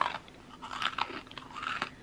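Snyder's jalapeño pretzel pieces are crunched and chewed close up in a series of crisp, moderately quiet bites, with no talking.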